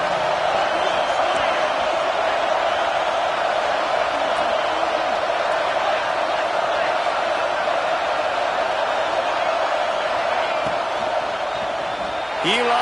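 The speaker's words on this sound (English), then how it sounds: "how nice is it to have the home crowd going absolutely bananas?" A home football crowd roars loudly and steadily in a stadium, a dense, sustained wall of cheering that holds almost unchanged throughout, with a voice talking over it.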